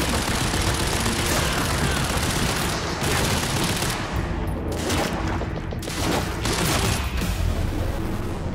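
An LMG machine gun in Quantum Break fires continuously in loud, dense automatic bursts, mixed with booms and game effects, with almost no talk.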